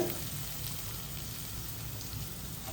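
Food sautéing in a pan for a Chettinad quail pepper fry, with a steady close sizzle and frying hiss running evenly for a few seconds at moderate level, and no talk.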